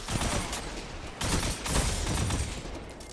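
The Crimson gun in a video game fires continuously in a dense, loud, unbroken stream of rapid shots, with slight surges in intensity throughout.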